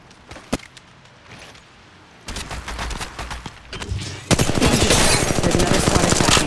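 Gunfire in Apex Legends Mobile: scattered single shots, then sustained rapid automatic bursts that grow denser and louder into continuous fire, with no talking.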